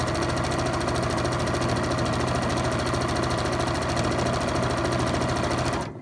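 A sewing machine runs steadily while stitching a scrubs gown, a fast even mechanical chatter that holds close and loud throughout before cutting off at the very end.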